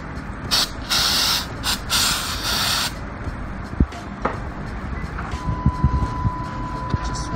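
Throttle body cleaner sprayed onto a napkin in a series of short, loud, close hissing bursts with one longer spray, followed by quiet handling sounds and soft clicks.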